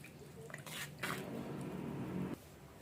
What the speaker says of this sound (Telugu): ఈ బీట్రూట్ వాటర్ని ఈ పిండిలో వేసి కలుపుకుందాం